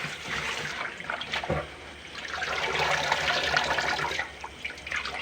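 Urad leaf greens washed by hand in water, with close splashing and swishing that rises and falls in uneven bursts and a brief pause midway.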